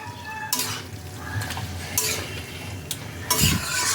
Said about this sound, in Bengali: ঘিটাকে বাঁধাকপির সাথে ভালোভাবে মিশিয়ে নিতে হবে